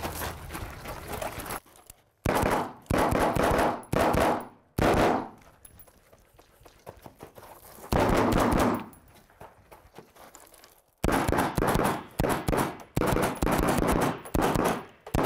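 Rapid gunfire from a nighttime three-gun competition stage at the Crimson Trace Midnight 3 Gun match: loud, dense bursts of shots come in several clusters, separated by short quiet gaps.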